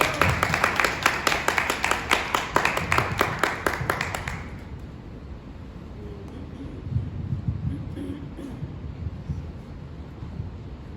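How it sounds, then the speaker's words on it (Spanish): A congregation claps in a parish church, a fairly close burst of rhythmic applause that stops abruptly after about four seconds, leaving faint room noise and murmuring. "Un aplauso."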